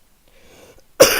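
A single sharp cough bursts out close to the microphone at the very end, after near silence with a faint breathy rustle.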